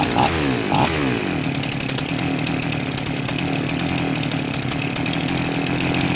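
A chainsaw engine with its carburetor L and H screws just adjusted runs loud and close at a steady idle, a continuous buzzing drone with a slight revving wobble early on and no speech.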